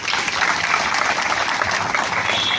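An audience at a high-school science quiz claps together, making a thick, steady burst of applause that fills the room for a few seconds with no talking.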